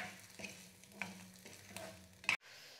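Ginger and garlic sautéing in a pan, a soft steady sizzle with a few sharp clinks of a stirring spoon against the metal, ending abruptly as the heat is cut.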